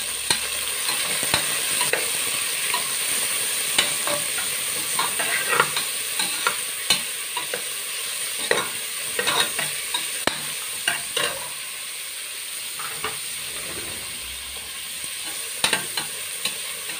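Two large onions sizzle steadily in hot oil in a pan, with frequent scraping stirs and spatula clicks scattered through the continuous frying hiss, close and fairly loud with no voices.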